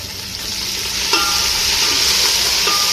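Crushed garlic and asafoetida fry in oil with green chilli, giving a dense, steady sizzle up close, with a couple of light metallic clinks from a spoon stirring the pan, and no talking.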